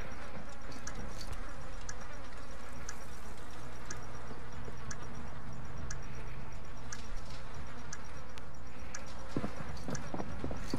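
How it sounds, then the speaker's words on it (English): Rapid small clicks of buttons being pressed during a bomb-defusal video game, ticking irregularly over a steady background hum, fairly faint and with no talking. "Just wait until you hear buttons clicking."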